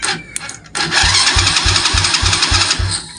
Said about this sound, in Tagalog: Narinig nyo nag-crank yung makina